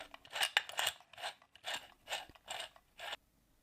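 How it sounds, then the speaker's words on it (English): A metal microscope upright stand being screwed onto its metal base, giving a series of close, crisp ratcheting clicks and scraping turns in an uneven rhythm. "For the assembly, the metal upright stand is screwed onto the base."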